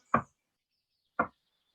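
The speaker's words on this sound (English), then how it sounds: "then we'll do the thymus thump" Two separate dull thumps from a loose fist tapping the sternum in a tai chi warm-up, spaced about a second apart, close and fairly soft, with no talking.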